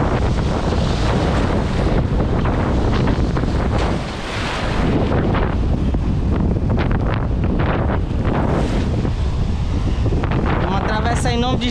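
Strong storm wind buffets the microphone on a rocky shore during a fishing trip, a loud continuous roar with surf, with a brief lull near the middle and someone talking over it.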